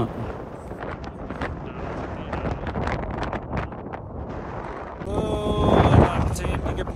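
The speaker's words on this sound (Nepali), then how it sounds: "एकदमै हावाहुरी लागेर छ" Strong gusting wind buffets the microphone throughout on the summit of Pikey Peak, with rumbling roars that swell louder toward the end, and voices faintly audible beneath.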